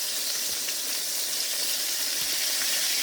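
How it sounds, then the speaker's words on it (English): Chicken seasoned with paprika frying in hot oil for buffalo wings, a close, steady hiss and crackle of sizzling grease with no voices. "So I'm going to continue frying up this chicken"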